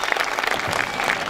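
Audience applause fills a hall at a Darıca cultural gathering, a dense, steady burst of clapping from a crowd that holds level from start to finish with no talk over it.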